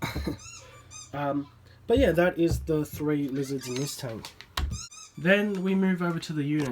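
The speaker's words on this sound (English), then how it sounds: "Oh, I apologise about squeaking, that is my dog outside." A dog squeaks outside with high, thin, intermittent squeals, faint and in the background beneath someone talking in an indoor reptile room.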